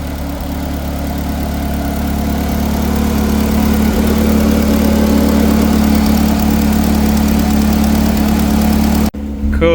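A turbocharged Nissan R34 Skyline with a Beams engine idles loud and close, a steady deep rumble that holds for about nine seconds before cutting off abruptly, with no speech.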